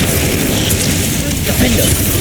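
Spell-casting blasts and magical booms in Hogwarts Legacy, a loud dense wash of bursts and pops running throughout with a voice faintly under the din.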